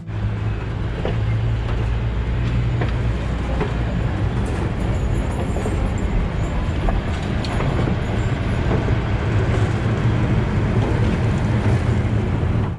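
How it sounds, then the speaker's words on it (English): A scenic railroad train leaving a station in small-town Indiana rumbles and clatters steadily, with occasional squeals and knocks of wheels on rails, a continuous mechanical roar with no talking. "They have a nice scenic railroad here, and I think it's getting ready to leave the station"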